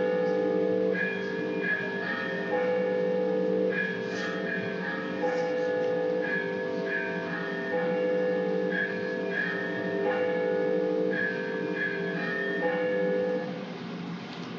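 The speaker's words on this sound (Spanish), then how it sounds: "Tres campanas." Three church bells ring a traditional toque, recorded during 1983–84 fieldwork in San Xoán de Río, their overlapping tones sounding steadily and fairly close for the whole stretch with no talk over them.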